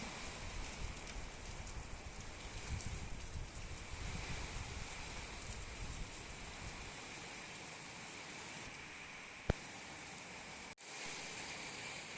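Soft, steady rain pattering on surfaces outdoors, a gentle continuous hiss with no voices.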